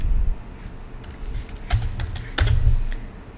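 Computer keyboard typing in a quiet room, a few soft, scattered key taps clustered in short bursts.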